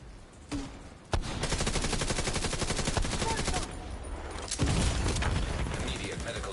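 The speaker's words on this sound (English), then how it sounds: "Picked up my turret and it was still shooting" Automated turret in The Division 2 keeps firing in a sustained rapid burst of gunshots, dense and fairly loud, with brief pauses and a heavier blast near the end.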